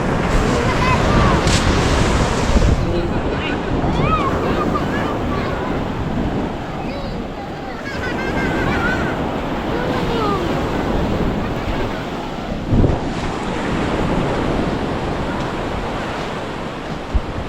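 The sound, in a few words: large ocean waves at the river mouth, Bucana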